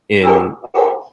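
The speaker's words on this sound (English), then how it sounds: "you can probably hear my dog barking like crazy in the background" A dog barks excitedly in two loud, close bursts, the first long and harmonic-rich, the second shorter after a brief pause, heard alone without talk over it.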